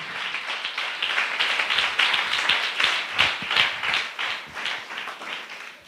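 Church congregation clapping hands overhead in praise, a steady dense patter of many hands lasting throughout, moderately near and fairly loud with no talk over it.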